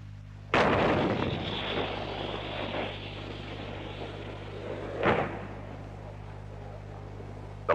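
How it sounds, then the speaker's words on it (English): A 90-millimeter tank gun fired from an M48A3 Patton tank, two loud sharp booms several seconds apart, each with a rolling echoing decay, over a steady low hum, plus the start of a third shot at the end. "the 90-millimeter tank gun, fired from an M48A3 tank, known affectionately as the General Patton."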